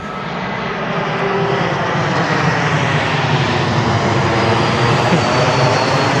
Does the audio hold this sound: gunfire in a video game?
no